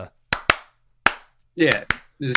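Sharp, close hand claps sound from a song's chorus in an uneven pattern of single and paired strikes, with short bursts of talking between them.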